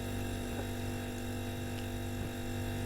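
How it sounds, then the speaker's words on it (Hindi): A household refrigerator hums in a quiet room, a faint, steady electrical drone with an unchanging pitch and no voices. "फ्रिज की आवाज आई है।"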